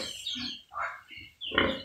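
Piglets grunt and oink in short, close bursts while being fed, several overlapping squeals and snorts separated by brief pauses, fairly loud, with no talking.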